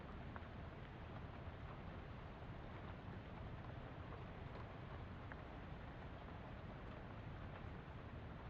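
A steady, loud windy whine from a motor in the video game Shadows Over Loathing, a broad rushing drone that holds unchanged from start to finish with no speech over it.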